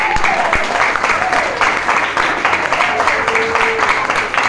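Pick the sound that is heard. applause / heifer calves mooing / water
applause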